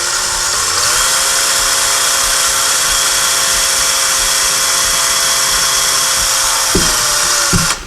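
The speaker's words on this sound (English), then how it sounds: "use a very small drill, a 1/16 or an 1/8 of an inch" A very small drill bit, about 1/16 to 1/8 inch, boring a pilot hole into a wall to locate a beam for mounting a tool organizer; a loud, steady high whine runs nearly eight seconds, dipping briefly as it bites in near the end.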